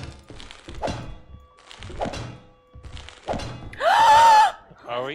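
A player gets smacked with a weapon in Lethal Company, a loud close thunk that follows several spoken phrases from players chatting over voice.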